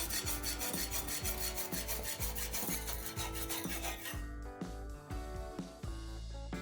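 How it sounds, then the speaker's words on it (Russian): Hand sawing of a thin 1.5 mm titanium plate, cut into four pieces for knife handles: a steady, rhythmic rasping of repeated back-and-forth strokes, close and loud, with no talking. "Распиливаю пластину на 4 части, это будет основой будущих рукоятей ножа."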